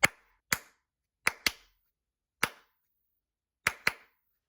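Sharp hand claps near the mic, six single cracks in irregular spacing with a close pair near the start and another near the end, made to trigger the sound-activated mode of a Thames & Kosmos plasma ball in a quiet room.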